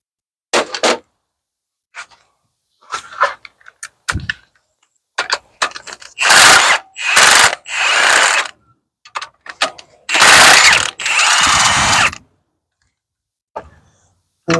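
A ratchet loosening valve cover bolts on a 2016 Nissan Rogue, close and loud, with bursts of rapid clicking ratchet strokes between short pauses and scattered metallic handling noises.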